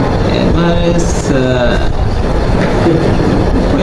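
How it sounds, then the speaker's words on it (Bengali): A mail train passing through a small railway station, its loud continuous rumble and rattling wheels filling the whole stretch up close, with squealing tones and voices talking over it. "তো সেই ট্রেনটা এখন যাচ্ছে মেল ট্রেন হিসাবে"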